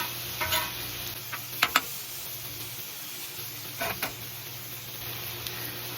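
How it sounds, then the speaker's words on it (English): Onions caramelizing on a Blackstone griddle give a steady sizzle, broken by a few sharp scraping clicks as they are flipped up close. "I'm gonna give these onions a quick flip. They're starting to get nice and caramelized"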